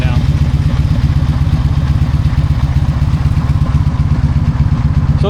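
A cheap long-distance motorcycle engine idles while warming up at about 1,000 RPM, loud and close with a steady, rapid, even thumping pulse throughout.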